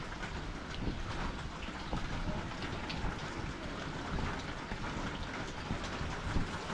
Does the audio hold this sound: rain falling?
yes